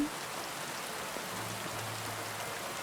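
Steady rain falls in the medieval game Kingdom Come Deliverance II, a continuous even hiss of drops with no voices, with a faint low hum entering partway through.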